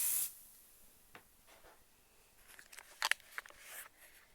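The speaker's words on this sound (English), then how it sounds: "give that a quick spray with some starch" A short hiss of spray starch onto a blue dress skirt at the start, then quiet, followed by a few soft fabric rustles and light clicks.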